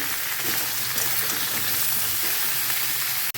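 Cubes of sweet potato and taro crackle and sizzle in hot oil in a frying pan, a dense, even frying hiss that runs without a break and stops sharply at the end.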